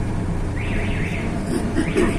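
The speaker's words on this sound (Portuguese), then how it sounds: "Opa, o alarme." A car alarm goes off somewhere down the street, with faint warbling, rising and falling electronic sweeps coming through the ambient outdoor noise at a distance.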